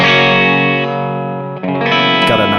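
A distorted Fender Jazzmaster electric guitar rings out with thick, sustained chords, then a brief dip before a fresh, gritty strum with a little bite.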